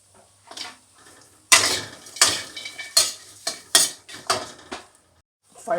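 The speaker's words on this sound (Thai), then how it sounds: "คั่วน้ำมันแห้งๆคั่วให้หอม" Palo spice powder being dry-roasted in a pan without oil over low heat: a quiet start, then about seven loud, rhythmic scraping strokes of a spatula against the pan, close and clear.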